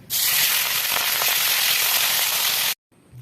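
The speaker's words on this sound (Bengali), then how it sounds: "এখন মাছগুলো ভাজিয়ে দিন" Pangas fish sizzles loudly in hot oil on a village clay stove, a dense continuous crackle that cuts off abruptly near the end.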